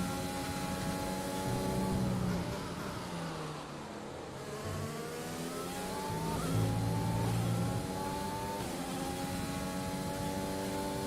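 A race car engine in a racing video game with the AI set to 105% drones steadily, its pitch rising and falling through gear changes as other cars whine nearby in a continuous, moderately loud stream.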